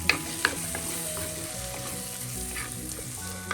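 Tomatoes sizzle in a pan while cooking for a Kerala-style Chempalli (big eye snapper) fish curry, a steady close frying crackle with a few sharp clinks of stirring, no talk.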